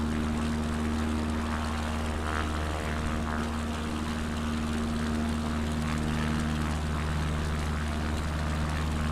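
Light propeller aircraft climbing after takeoff in Microsoft Flight Simulator 2024: a constant droning engine hum with steady tonal harmonics under a broad wash of wind noise, loud and unbroken throughout.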